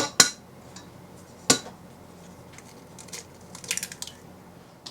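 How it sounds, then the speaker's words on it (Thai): Two sharp cracks on the rim of a bowl as eggs are broken into cocoa sponge cake batter, followed by faint clinks and soft wet sounds in a quiet kitchen. "ก็จะนำไข่นะคะตอกลงไปผสมเลย"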